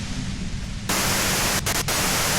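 Loud broadband white-noise static from the video game Disco Elysium, steady and hissing, thickening abruptly after a quieter opening and broken by two brief dropouts near the end.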